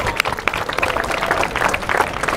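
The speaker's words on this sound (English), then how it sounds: "give yourselves a round of applause for being such a great audience." A street performer's audience applauding, a dense, steady wash of clapping from a crowd close by.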